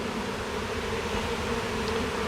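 Honey bees hum steadily around a hive frame during a colony inspection, a dense continuous buzz that stays even and fairly close throughout, with no voices.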